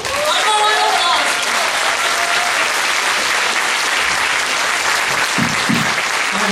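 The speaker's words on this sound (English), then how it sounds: "One more round of applause." A crowd applauds enthusiastically, dense clapping sustained at a steady level throughout, with a few louder claps standing out near the end.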